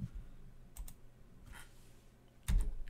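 A handful of sparse, quiet keystrokes clicking on the keyboard of a PiDP-11 replica of a PDP-11/70 computer while code is entered, with soft low thumps between them and a louder key press near the end.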